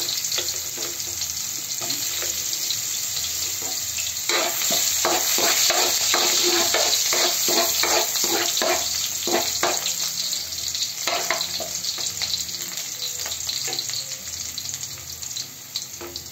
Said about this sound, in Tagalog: Ito lang naman ang pagigisa.